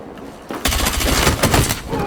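Close-range automatic gunfire in the first-person shooter Battlefield 6: rapid, loud bursts of shots start about half a second in and continue steadily to the end, with no talk.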